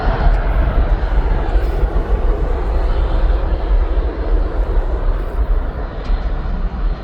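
A Jet2 Holidays jet airliner bound for Antalya roars past at East Midlands Airport, a loud, continuous broadband engine rumble that holds steady throughout without speech.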